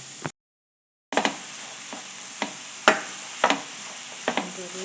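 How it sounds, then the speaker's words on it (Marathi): Mushrooms with garam masala fry in a pan, a soft steady sizzle broken by a brief cut to silence, then several sharp scrapes and knocks of a spoon stirring against the pan. "आता मातशें भाजून दवरता आनी आतां न्हू एक स्पून गरम मसाला घालता"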